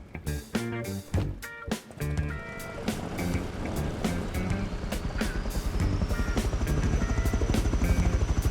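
An attack helicopter in the game Rust fires rockets, sharp launch bursts in quick succession over a loud, steadily thrumming rotor that grows heavier and more continuous.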